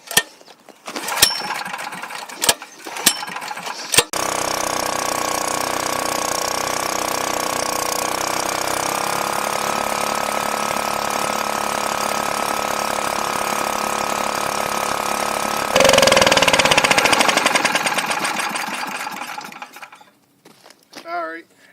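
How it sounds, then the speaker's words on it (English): A Honda generator engine catches after a few sputtering start attempts, then runs at a steady, loud drone that rises briefly in pitch before winding down and stopping. "Alright, I think I got it running now."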